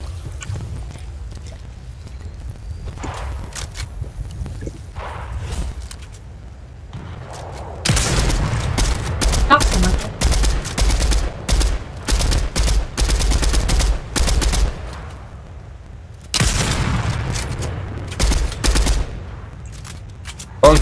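Video game gunfire comes in loud, rapid automatic bursts, a long dense volley and then a shorter one, separated by quieter stretches of scattered single shots and background game noise.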